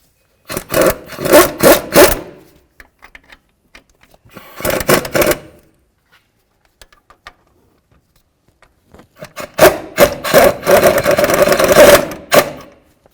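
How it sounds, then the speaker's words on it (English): Mounting bolts on a 2007-12 Nissan Sentra wheel bearing being torqued to 122 foot-pounds with a torque wrench, with three bursts of rapid ratcheting clicks separated by quiet pauses, close and fairly loud, no talking. "we're going to torque each of these to 122 foot-pounds"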